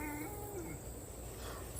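A domestic cat meowing outdoors in a garden, a single drawn-out, wavering meow up close at the start, fading into a quiet outdoor background with no talking.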